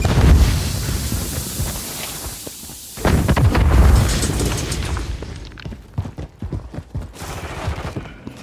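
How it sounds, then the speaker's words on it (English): A stun grenade goes off in the Warzone video game: a loud, close burst of explosive noise opens the moment, and a second blast hits midway. Sharp impacts and crackling gunfire-like bangs follow before the sound settles. "Stun grenade out!"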